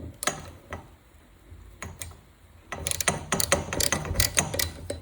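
Ratchet wrench tightening wheel nuts on a Coolster 125cc ATV after a brake rotor job: a few sparse clicks, then a dense burst of rapid, close metallic ratcheting clicks.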